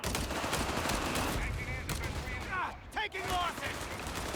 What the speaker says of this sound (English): Did see a few shots go towards the grenadiers.